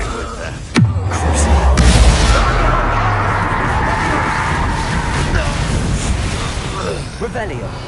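A Confringo fire spell blasts in Hogwarts Legacy, a sharp explosive boom followed by a long rumbling, crackling roar that slowly fades over several seconds.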